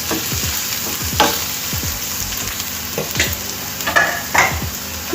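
Taro root (chamadumpala) frying in a pan with paste, a constant close sizzle broken by repeated scraping stirs of a spatula against the pan, with no voices.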